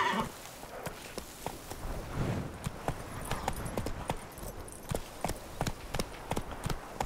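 Hooves of a horse galloping in The Witcher 3 video game, a steady rapid clip-clop rhythm close by throughout, with faint game ambience underneath.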